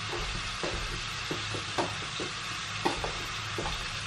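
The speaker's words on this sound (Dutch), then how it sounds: "Daar staat nu het gehakt voor te bakken met heel veel curry." Minced meat frying in a pan with plenty of curry: a steady close sizzle with scattered scraping knocks of stirring, no voices.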